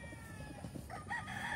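Chickens and a rooster on a farm, with a faint crow rising near the end over a distant, busy background of clucking fowl.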